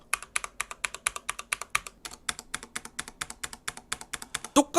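Rapid, evenly spaced keystrokes on a Corsair K70 SE mechanical keyboard with Cherry silver switches, close up and distinct, ending with a couple of heavier thumps.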